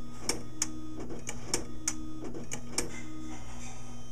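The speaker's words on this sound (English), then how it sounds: "So the printer tray came out and it jumps to the left and drops the CD." Bravo II disc publisher with a faulty robot arm, the printer tray and arm mechanism whirring under a steady motor hum, with a series of sharp clicks and ticks spaced irregularly throughout, faint and close.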